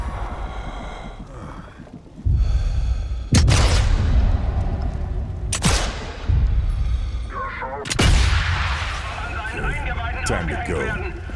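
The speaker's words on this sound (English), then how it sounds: "Time to get clear of the blast and watch the fireworks." Heavy explosions boom in the shooter game Sniper Elite 5, three sharp loud blasts spaced a few seconds apart, each followed by rumbling debris and a low sustained roar, with no talking.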